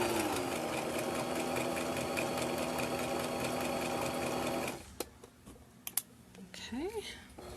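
Sewing machine stitching fabric for a bowl cover, a steady rapid mechanical whir running loud and close for about five seconds, then stopping, followed by a few sharp clicks and rustles of fabric being shifted.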